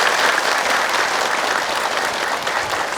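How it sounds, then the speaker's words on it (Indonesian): Studio audience of women clapping together in a dense, steady burst of applause, loud and close throughout with no pauses. "Tepuk tangan, semangat juga."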